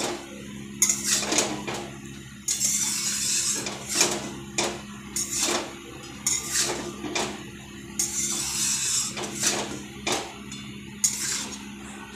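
A spatula stirring salt into chira polao, a flattened-rice pulao, in a pan: repeated scraping strokes in an uneven rhythm, close and fairly clear, with no voices.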